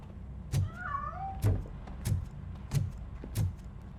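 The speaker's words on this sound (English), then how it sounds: "That cat must be hiding inside." In the game Robocop: Rogue City, a cat meows once in a drawn-out, wavering call, set among a few sharp thumps and knocks over steady low background noise.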